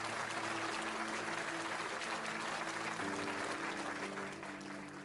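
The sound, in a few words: congregation applauding in church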